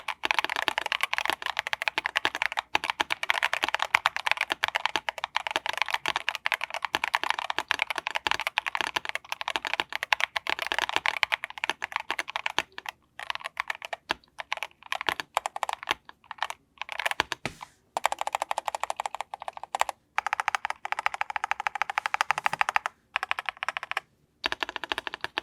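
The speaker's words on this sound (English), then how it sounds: "I'm going to go ahead and do a typing test so you guys can hear what it sounds like" Rapid clacking of an EPOMAKER RT100 mechanical keyboard during a typing test, close and continuous for long stretches, broken by short pauses near the end.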